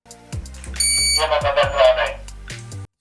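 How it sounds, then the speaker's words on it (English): A few short electronic beeps and chirps from a security device, with a brief sustained tone in the middle, close by and fairly loud. "I take the alarm fob and set the security mode."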